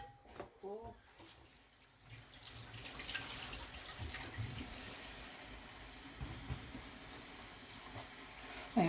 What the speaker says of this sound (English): Fill up the kettle again and boil it